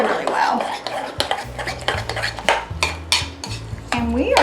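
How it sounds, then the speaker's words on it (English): Spoon stirring brown sugar and ketchup together in a bowl for meatloaf topping, repeated close scraping and clinking strokes in an uneven rhythm with no talking. "we're just gonna mix that all up together"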